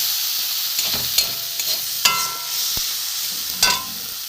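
Boiled potatoes frying in a pan with a steady sizzle, and a spatula scrapes and stirs in a few distinct strokes close by, no talking.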